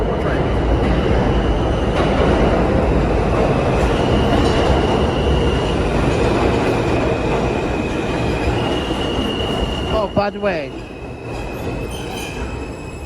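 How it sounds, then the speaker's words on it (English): A New York City subway train rolls past close by, loud and steady, with its wheels squealing in a rising and falling whine near the end. Someone speaks briefly over the noise. "Oh, one more train."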